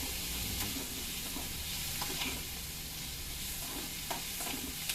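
Onions fry with greens in a pan, producing a continuous, even sizzle and faint stirring, steady throughout with no voices.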